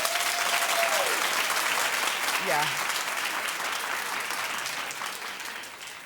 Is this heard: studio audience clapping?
yes